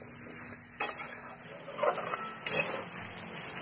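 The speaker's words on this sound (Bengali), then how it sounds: "দিয়ে এটাকে ভালো করে ফ্রাই করে নেব।" Potato and papaya pieces frying in hot oil with salt and turmeric are stirred in a pan. A steady hiss sits under several scraping and clinking strokes of the spoon against the metal, close by.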